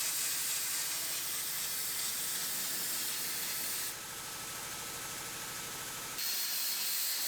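An aerosol can sprays rust-proof coating inside a truck's wheel arches, giving a loud, close, continuous hiss that briefly softens before resuming at full strength.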